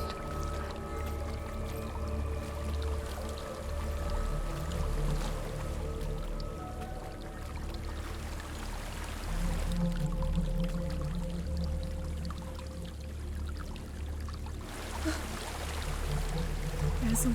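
A waterfall in Hellblade: Senua's Sacrifice rushes steadily in the background, a continuous watery wash layered with low ambient tones and occasional louder splashing bursts.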